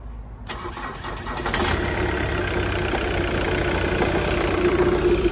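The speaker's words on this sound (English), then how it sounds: "So, let's see if this will start now." An old Jaguar car engine cranks briefly, then catches on the first turn of the key and settles into a steady, loud idle that runs to the end, with no voices.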